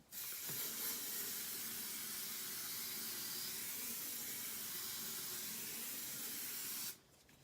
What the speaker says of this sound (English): we're gonna lock in this layer with a bit of more hairspray